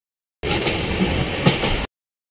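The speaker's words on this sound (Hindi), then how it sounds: "तो दोस्तों ट्रेन ने अभी थोड़ा सी स्पीड पकड़ा है।" A Sampark Kranti express train picks up speed near Borivali in Mumbai, giving a short burst of rumbling rail noise with a couple of clacks, close and fairly loud, lasting under two seconds.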